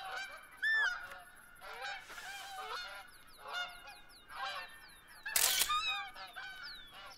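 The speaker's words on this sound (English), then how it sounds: "There's geese in the middle of the field now." Geese honking in the hunting game The Hunter: Call of the Wild, several clear honks from a flock in a field, repeating irregularly at moderate distance with a sharp click partway through.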